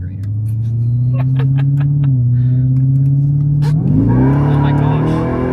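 A Ford F-150 Raptor R truck drives with a steady, loud low engine drone that rises slightly near the end, while people talk inside the cabin.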